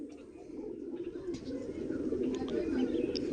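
Big male Kaldom Kalpora pigeons coo in low, rolling murmurs, close and continuous, with faint background chatter and clicks.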